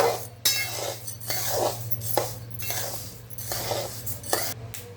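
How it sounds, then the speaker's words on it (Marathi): Jowar grains dry-roasting in a pan over medium heat, with soft rattling scrapes and light ticks as grains shift and start to pop, paired with a steady low hum throughout. "भाजत यायला लागल्यात बघा ज्वारी. लाह्या व्हायला लागल्यात त्याच्या, आता लाह्या फुटायला लागल्यात."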